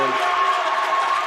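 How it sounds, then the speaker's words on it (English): Basketball crowd at a women's college game giving a mixed reaction, a steady dense roar of voices with boos and cheers blended together, loud and continuous throughout the short moment. "a little bit of a mixed reaction from the crowd. Some boos and cheers mixed together"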